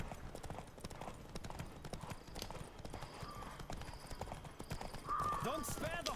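Horse galloping hard in a race in The Witcher 3, with rapid, even hoofbeats close by and a short whinny near the end.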